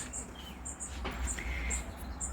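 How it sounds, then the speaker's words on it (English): Birds chirp in short, high tweets repeating every half second or so, moderately distant over a soft outdoor hum. "You can hear the birds chirping."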